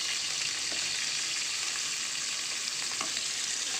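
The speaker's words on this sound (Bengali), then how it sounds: "এখানে তেলের মধ্যে আমরা দিয়ে দিয়েছি টমেটো আর হচ্ছে রসুন দিলাম আর পেঁয়াজ দিচ্ছি" Tomato, garlic and onion fry in oil while being stirred, a steady close sizzle with occasional soft scrapes of the spoon.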